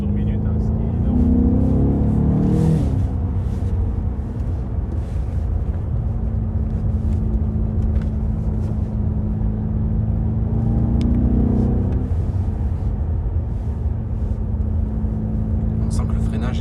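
A 2020 BMW M8 Competition Gran Coupé's turbocharged engine drones steadily from inside the cabin, rising in pitch twice as it accelerates, with the revving swell most noticeable early on and again near the end.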